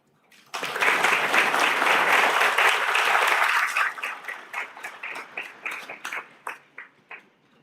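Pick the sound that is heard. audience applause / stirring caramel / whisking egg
audience applause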